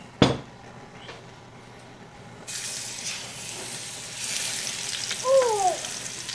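Blackened pork chops frying in a good amount of oil in a pan: a sharp knock, then a quiet stretch before a louder hiss and crackle of frying sets in, with a brief squeak near the end.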